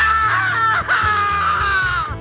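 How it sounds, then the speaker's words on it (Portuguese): A horrible scream rings out from a bathroom, a loud, sustained, wavering cry that dips briefly in the middle before rising again and continuing strongly to the end. "Era um grito horrível."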